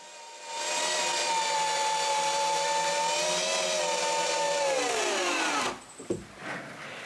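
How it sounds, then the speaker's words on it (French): Power drill or impact driver sinking 8-inch (20 cm) screws into wood while building a shelter at a cabin, a steady loud whine running several seconds, pitch sagging as it bogs down before stopping, followed by a few faint knocks. "Je visse donc des vis de 8 pouces."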